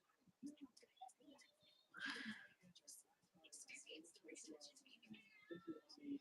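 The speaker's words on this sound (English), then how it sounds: "Sorry, that's my cat." A cat meows several times close by, quiet and plaintive, alongside soft nearby talk.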